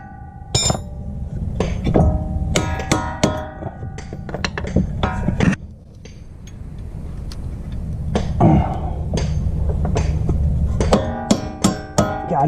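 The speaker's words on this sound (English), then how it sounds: "get out the hammer again" Repeated metallic hammer strikes drive a bolt during a front wheel bearing install on a 2003-2008 Honda Pilot, sharp clinks with bright ringing tails, pausing midway before another quick series of blows.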